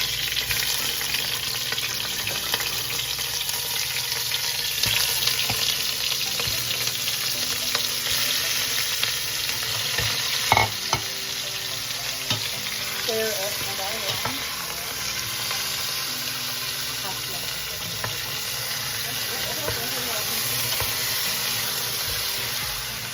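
Pork sizzles and fries in a pot as Filipino sinigang is started, a steady loud hiss with stirring scrapes and a few clinks over about twenty seconds.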